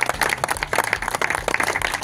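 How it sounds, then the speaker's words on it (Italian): Applause for young anglers at an outdoor sea spinning fishing trophy event, a burst of scattered hand claps, fairly close, running steadily with uneven rhythm over a low background hum. "Facciamo un grande applauso a loro"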